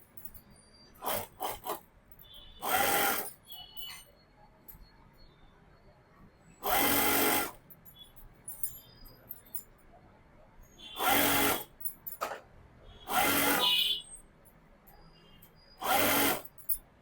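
A sewing machine stitches a sleeve onto a dress in short, loud whirring runs of about a second each, separated by quiet pauses and faint handling sounds, close by, with no talking.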